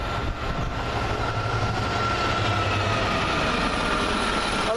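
A Class 390 electric train bound for Manchester Piccadilly passes close by with a loud, steady rushing roar and faint rail clatter, and no voices.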